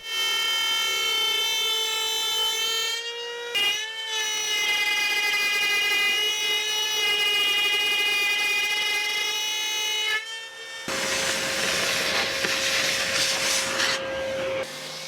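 A router guided by a homemade jig cuts wooden rings, a loud steady high-pitched motor whine with strong harmonics, briefly interrupted twice, then turning to a rougher, noisier cutting sound near the end.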